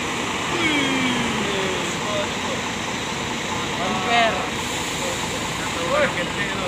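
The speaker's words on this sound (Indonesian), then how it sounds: "Simpati Star double decker berangkat." A Simpati Star double-decker bus pulls out of a bus terminal with a steady, close engine drone and brief tonal whines, over busy background noise and faint voices.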